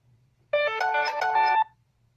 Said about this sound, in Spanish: le voy a sacar el sonido del teléfono que no lo saqué.